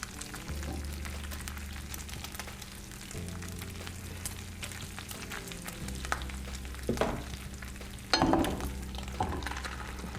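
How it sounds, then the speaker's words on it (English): Bacon sizzles and crackles steadily in a frying pan at low volume, with a few clinks and scrapes as the strips are turned over near the end. "Give this bacon a flip."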